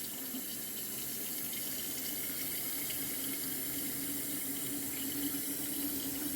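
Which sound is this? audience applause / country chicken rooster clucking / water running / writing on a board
water running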